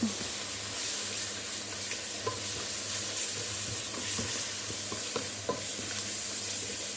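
Tomato sauce is stirred into sautéed aromatics in a pan while making nasi kebuli, with a steady, moderate sizzle and soft scraping of the stirring throughout.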